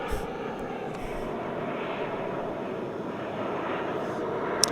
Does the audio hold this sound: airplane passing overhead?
yes